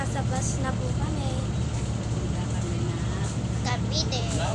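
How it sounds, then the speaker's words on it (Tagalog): Steady low engine rumble and road hum fill a bus interior heading to Cavite, Philippines, with people talking in Filipino over the continuous drone throughout. "So yan guys, nasa bus na po kami."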